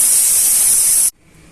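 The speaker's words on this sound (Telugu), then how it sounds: "1 లేదా 2 విజిల్స్ వచ్చేంత వరకు ఉడికించుకోండి." A pressure cooker cooking chicken vents a loud, sharp hiss of steam for about a second, then cuts off abruptly into quiet.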